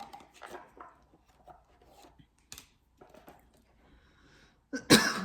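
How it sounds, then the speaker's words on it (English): Quiet rustling and small movements give way to a single loud, harsh cough near the end, close to the listener. "Not surprised I had to cough, though."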